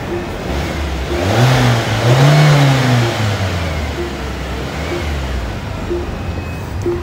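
The turbocharged engine of a 2024 Chery Omoda 5 RZ revs up from idle, climbing to a loud peak, then sinking back to a steady hum, heard up close with no talking.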